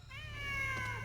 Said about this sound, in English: At the start of each floor, if you hear a meow